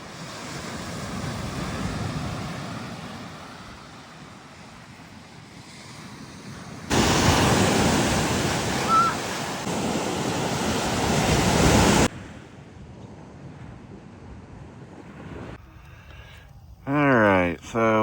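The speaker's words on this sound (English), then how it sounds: "Nice private beach and direct access to the ocean." Ocean surf rolls onto an Assateague Island beach in a steady, loud wash, swelling into a heavier roar midway, with wind buffeting the microphone and a brief voice near the end.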